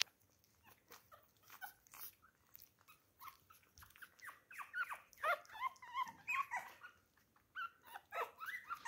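Newborn Petit Brabançon puppies eat from their first food bowl and whimper, with soft high yips and whines rising and growing busier toward the end, close and fairly quiet.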